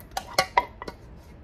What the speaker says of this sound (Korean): 딱딱 긁어서 그릇에 담은 다음에